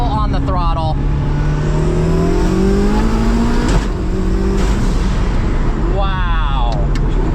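A 1750-horsepower rear-wheel-drive SSC Tuatara accelerates hard in second gear, its engine note climbing steadily and loudly from inside the cabin, with people talking at the start and end.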